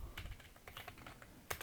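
Keys clatter on a computer keyboard during Korean word-processor exam practice, a quick run of light taps ending in one sharper, louder press near the end, close and fairly quiet.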